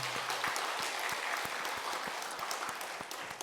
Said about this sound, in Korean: 우리 하나님께 영광의 박수를 돌리겠습니다.